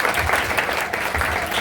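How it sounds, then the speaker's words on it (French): A congregation applauds together at a memorial gathering, steady dense clapping holding at an even level for a moment with no voices over it. "Applaudissons pour la question"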